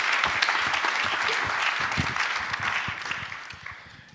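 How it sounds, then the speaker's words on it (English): Sustained applause from a large audience at a festival debate on stage, dense and steady clapping that fades slightly toward the end. "please give her another round of applause"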